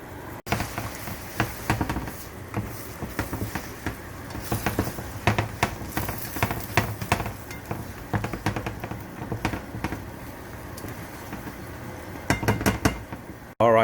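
Eggs and chorizo frying in a pan, a steady sizzle under repeated clinks and scrapes of a utensil stirring against the pan, close and fairly quiet, without talk.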